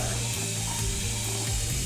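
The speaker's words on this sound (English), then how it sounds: "we're using hot water here. Basically, we're just going to mix the ingredients while we're filling it up" Hot water running steadily into a container for mixing homemade laundry detergent, a constant rushing pour with no talk.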